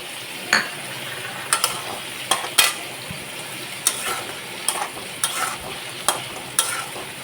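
Eggplant and potato frying with turmeric and salt in a pan, being stirred: a continuous sizzle punctuated by repeated sharp scraping clacks of a spatula against the pan, roughly every half second to second.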